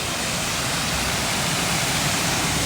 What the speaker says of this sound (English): And then here's that waterfall.